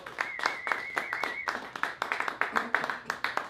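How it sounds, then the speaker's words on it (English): An audience claps for a magician introduced at a live show, with a dense burst of applause throughout and a voice talking over it. "Everybody give him a round of applause."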